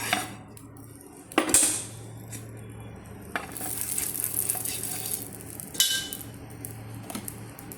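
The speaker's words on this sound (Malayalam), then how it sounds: "നമുക്ക് മുട്ടയും കൂടെ ഒന്ന് പൊരിച്ചെടുക്കാം" An egg frying in a pan for a masala omelette: sharp clinks of utensil on pan at intervals over a soft, intermittent sizzle that rises in the second half, close and fairly quiet.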